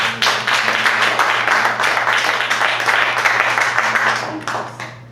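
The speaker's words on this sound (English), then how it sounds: "One more round of applause for Roop on the trombone." Audience applauding a trombonist at a jazz combo concert, a dense steady wash of clapping from many hands filling the hall for about five seconds, thinning slightly near the end.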